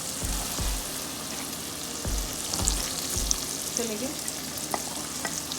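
Two medium finely chopped onions fry with ground garam masala in a pan, a steady close sizzle broken by several soft stirring scrapes, with a brief spoken word over it.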